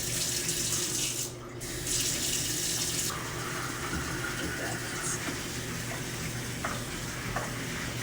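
Cold water runs steadily from a tap into a sink to rinse out a container that held lye for goat milk soap, a continuous close splashing rush with a brief dip in flow early on.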